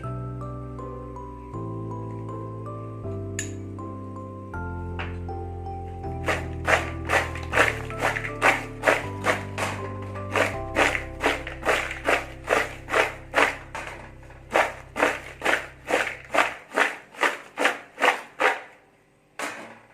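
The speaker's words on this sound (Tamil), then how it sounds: "கொஞ்சமாக இந்த சூடோடு இருக்கும்போதே கொஞ்சமாக ஒரு சுகர் போட்டு குலுக்கிக்கலாம்" Warm maida biscuits are shaken with sugar in a container, giving a steady run of rhythmic, close rattling shakes that start a few seconds in over soft background music.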